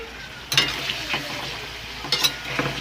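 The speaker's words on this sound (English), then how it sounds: "like the curry paste in here. Frying with the meat." Pork frying in a pan with green curry paste, a steady close sizzle broken by a few sharp stirring scrapes and clinks.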